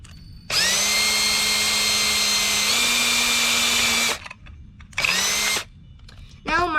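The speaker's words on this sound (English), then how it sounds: "you could drill it now" A power drill drilling a mason jar lid whirs loudly and steadily for several seconds, stops, then runs again in a shorter burst, with a brief voice at the end.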